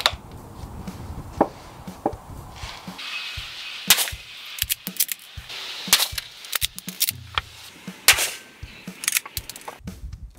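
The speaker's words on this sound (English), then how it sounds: "up next is the 150 grain Remington Core Lock pointed soft points." A Remington 700 rifle fires 150-grain Remington Core-Lokt pointed soft point ammunition: several sharp, sudden cracks spaced a few seconds apart, mixed with smaller clicks and handling knocks, with no talking.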